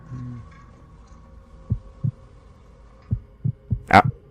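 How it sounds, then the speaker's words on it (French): Heartbeat effect from the video game Assassin's Creed II: a series of low, thudding beats, spaced irregularly, sounding close and alone over a faint steady hum, followed by a brighter sharp sound near the end. "J'entends des battements de cœur, mais je sais pas où frapper"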